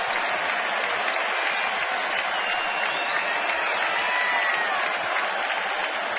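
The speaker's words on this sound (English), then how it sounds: "Fans applauding for a strikeout." Baseball crowd at a Tampa Bay versus Baltimore game applauding a strikeout, a sustained, loud wash of clapping and crowd noise that holds steady for several seconds.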